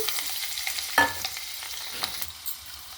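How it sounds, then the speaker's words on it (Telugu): Garlic sizzles steadily in hot oil with a soft, continuous hiss, punctuated by a few light clicks of stirring, close and unbroken. "నూనె కాగిపోయిందండి ఎల్లుల్లిపాయలు వేసుకున్నాము"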